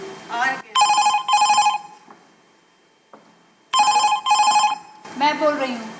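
A telephone rings on stage during a Hindi play, two loud trilling bursts of electronic bell tones with a pause between, while actors' voices are heard just before and after.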